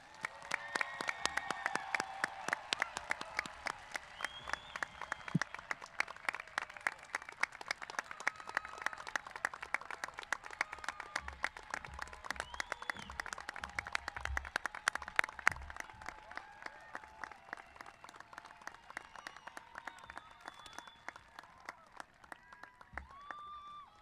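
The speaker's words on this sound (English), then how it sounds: "Let's give them all a round of applause." An audience at a university fall convocation claps steadily and continuously, a dense patter of many hands that lasts throughout, with faint scattered cheers in the hall.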